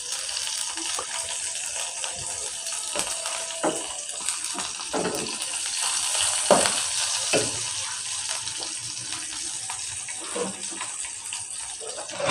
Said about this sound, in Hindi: एक मिनट के लिए इनको भून लेते हैं।